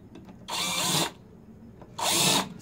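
A cordless drill countersinking holes in a part for a recycled CNC gantry build, two short whirring bursts of about half a second each separated by a quiet pause, close and clear.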